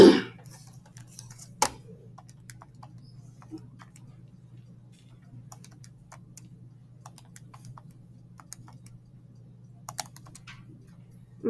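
Scientific calculator keys pressed in a short run of soft, sparse clicks, with a steady low hum underneath and no talking.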